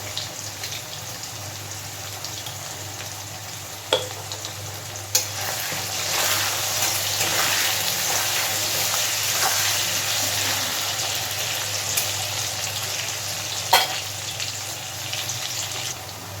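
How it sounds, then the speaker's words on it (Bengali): Salted potatoes frying in a pan for a Bengali fish curry, a steady close sizzle running throughout with a few sharp clicks and scrapes from stirring, no voices. "আলুগুলো কিন্তু খুব সুন্দর করে ভাজা হয়ে গেছে"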